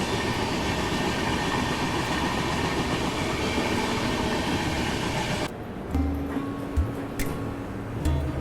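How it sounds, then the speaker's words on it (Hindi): Onboard a New Delhi–Jammu Duronto Express arriving at Ludhiana Junction in the early morning: a steady loud rolling rumble that abruptly quiets as the train slows, followed by squeals and scattered clanks. "हमारी ट्रेन अभी पहुँचने वाली है लुधियाना जंक्शन रेलवे स्टेशन"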